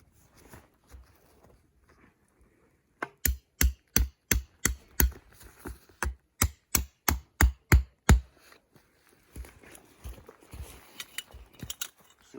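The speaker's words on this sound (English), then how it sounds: "Same thing when you're setting your tent pegs." Tent pegs hammered into frozen ground while pitching a hot tent for -40C winter camping, a quick run of about sixteen sharp, evenly spaced metal strikes, close and loud, after a quiet start.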